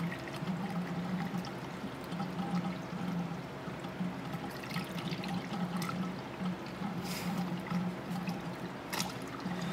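Coolant poured slowly into the cooling system of a 2001 Ford Escape 3.0 V6, a continuous close trickle and gurgle of liquid with a few brief splashy bursts, no talking.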